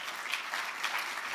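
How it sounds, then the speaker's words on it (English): Audience clapping steadily, a dense patter of many hands at moderate distance, without voices. "Let's give him a round of applause."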